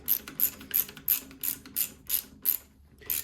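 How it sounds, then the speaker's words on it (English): A socket wrench ratchets bolts on an Ariens Deluxe 28 snowblower, giving nine crisp, evenly spaced clicking bursts at close range, with a brief pause near the end and no talk. "Then you can just use a regular socket."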